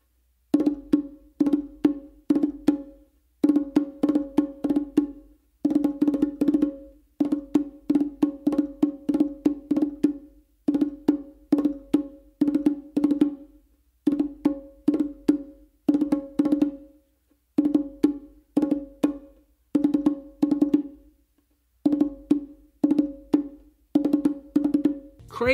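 Two bongo combinations of four open tones each, one played as a continuous phrase and one as a triplet with a separated single note. Hand strokes ring close and resonant over a long run of evenly spaced repeating groups, with no speech.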